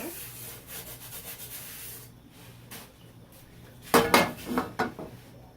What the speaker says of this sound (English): Before I put it in, I'm going to clean out my pan.